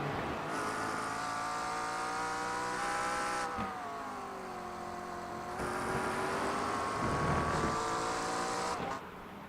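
A Lamborghini GT race car lapping Brands Hatch, its engine rising and falling through gear changes in a loud, sustained roar, with a second car's drone audible alongside.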